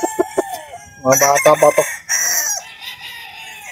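Young chickens and a rooster cluck and crow at close range, with short bursts followed by a louder crowing call, while someone talks among them.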